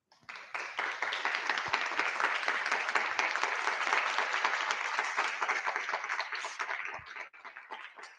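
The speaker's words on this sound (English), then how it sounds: "Please stand up and welcome them with a big round of applause." A hall full of standing audience members applauds to welcome judges, dense sustained clapping for several seconds before it tapers off near the end.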